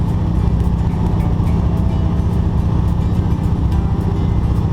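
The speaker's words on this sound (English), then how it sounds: "You hear the mighty Pratt & Whitney Wasp engine driving this little aircraft." A 1963 de Havilland Beaver floatplane with a Pratt & Whitney Wasp radial engine drones steadily and loudly throughout, a dense continuous low rumble with no break.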